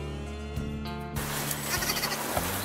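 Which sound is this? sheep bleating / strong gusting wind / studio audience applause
sheep bleating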